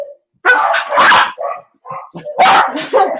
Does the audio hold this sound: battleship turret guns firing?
no